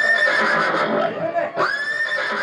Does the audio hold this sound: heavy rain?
no